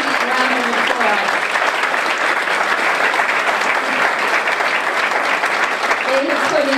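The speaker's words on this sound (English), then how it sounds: "please give them a round of applause" A gala audience at a reunion event applauds for the alumni relations staff, dense sustained clapping from a large crowd filling the room evenly, with a voice emerging faintly near the end.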